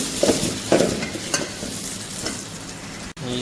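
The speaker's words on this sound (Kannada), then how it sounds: "ಪಲಾವ್ ಎಲೆ, 3 ಏಲಕ್ಕಿ, ಲವಂಗ, ಸ್ವಲ್ಪ ಒಂದು ಸಣ್ಣ ಚಕ್ಕೆ ಹಾಕಿ ಮತ್ತು ತಿರುಗಿ" Bay leaf, cardamom, cloves and a small piece of cinnamon sizzle steadily in hot oil for mutton pulao, with a few scraping stirs of a spoon early on; close and continuous, no voices.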